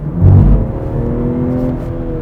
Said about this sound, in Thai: เวลาจะกดคันเร่ง